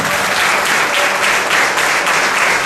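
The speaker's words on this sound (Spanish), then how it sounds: "Aplauda al Señor en esta mañana." A church congregation claps steadily together during a Spanish-language worship service, a dense and even wash of applause that holds for the whole moment with no voices on top.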